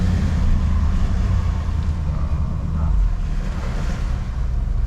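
Waves roll onto a beach at Moreton Island as the tide comes in, a steady broad wash of surf blended with wind buffeting the microphone, continuous and fairly loud with no voices.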